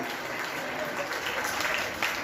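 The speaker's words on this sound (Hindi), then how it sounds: "जोरदार इस्तक़बाल तालियों के साथ" Continuous audience clapping welcomes a guest of honour at an Eid Milan gathering, a dense, moderately loud wash of hands with faint voices beneath.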